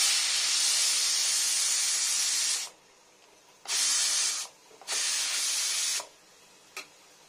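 A pressure cooker boiling dal lets off steam through its whistle in loud, sharp hissing jets: one long blast, a pause, two more sustained bursts, then a brief final puff, all close by.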